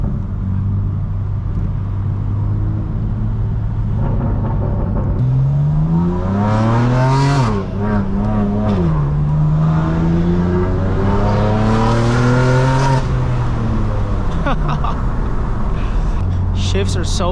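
Straight-piped BMW M4 Competition revving hard through its gears on a canyon road, a loud close engine note climbing and dropping with each aggressive shift, over a steady low drone, with people's voices mixed in.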